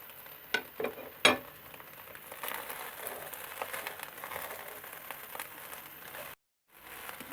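Green onions tossed into sizzling chicken fried rice in a pan, with a couple of sharp clatters at the start, then a soft, steady frying crackle that cuts to silence near the end.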